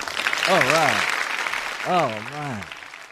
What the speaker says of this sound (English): It's amazing how many sound that five people can make clapping, like that.